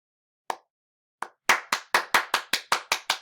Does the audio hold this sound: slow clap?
yes